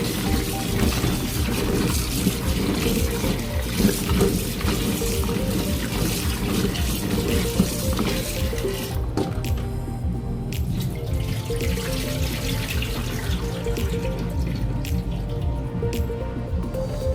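Green plums being washed under a running tap in a sink, with steady splashing and trickling water, close and continuous throughout.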